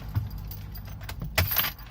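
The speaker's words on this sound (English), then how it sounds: "So now I'm turning the car off." Keys jangle in a car as it is switched off, a few short metallic rattles and clicks close by over a low background rumble.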